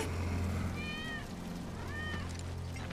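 Wedge's cat in Final Fantasy VII Remake gives two clear meows, a second apart, over a low rumbling game background hum.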